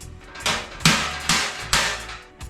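Five sharp metallic slaps from a slap hammer smoothing a truck's steel roll pan body panel, spaced roughly every half second, close and loud with short ringing decays.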